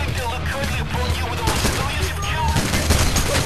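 Gunfire in the video game PAYDAY The Heist on the Heat Street heist comes as dense, rapid, loud bursts of automatic shooting that barely pause, with players' voices mixed in.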